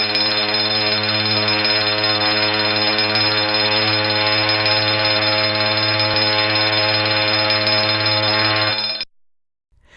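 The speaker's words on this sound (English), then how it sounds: "This alarm will have a continuous blast of the ship's whistle for a period of not less than 10 seconds" A loud, steady ship's whistle sounds a continuous emergency blast without a break for about nine seconds, then cuts off abruptly into silence.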